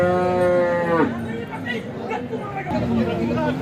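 A pure HF cow at a busy cattle market in Alephata, Maharashtra lets out one drawn-out moo nearby, followed by crowd chatter and voices in the background.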